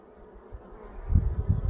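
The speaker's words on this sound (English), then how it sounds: "Beautiful, beautiful bee." Honeybees buzz around an open hive frame with a Russian queen laying eggs, a low droning hum that swells louder and closer partway through, with no talking.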